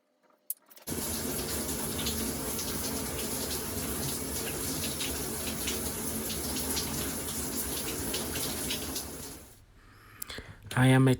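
Water runs steadily from a bathroom tap or shower for several seconds as someone gets ready in the morning, a continuous close hiss that stops abruptly near the end, followed by a few brief knocks.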